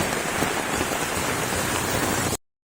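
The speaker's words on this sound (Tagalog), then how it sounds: "mukhang magtatagal ang malalakas na ulan at hangin ngayong gabi" Heavy rain pours steadily with strong wind at night, a dense continuous hiss of drops on surfaces at close range, loud and unbroken, with no voices, before cutting off abruptly.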